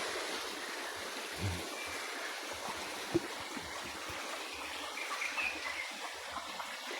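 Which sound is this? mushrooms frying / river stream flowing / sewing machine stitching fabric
river stream flowing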